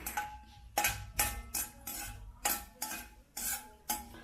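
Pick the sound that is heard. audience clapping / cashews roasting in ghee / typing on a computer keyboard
cashews roasting in ghee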